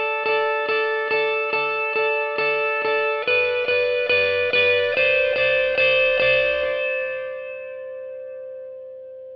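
An electric guitar run through effects plays the main riff of a song: clean, evenly repeated high notes with chorus and echo. A lower part joins midway, then the last note rings out and fades slowly.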